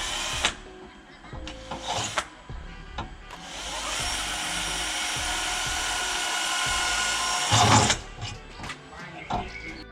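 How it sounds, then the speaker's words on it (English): A power drill bores into a mount part for a motorcycle bag. A short whir comes first, then one sustained, steady drilling run of about four seconds, close and loud, followed by small handling clatters. "after drilling this part and testing the mechanism"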